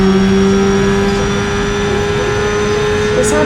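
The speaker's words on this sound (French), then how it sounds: "Wow, ça monte très haut en régime!" A car engine in BeamNG.drive, a one-cam motor, revs high and holds there as a loud, steady, buzzing drone with strong tones throughout and no speech.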